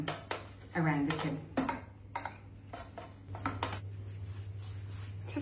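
A pastry brush sweeps butter around the inside of a metal tart tin before layering filo pastry, giving soft, repeated scratchy brushing strokes and occasional light clinks, up close and fairly quiet.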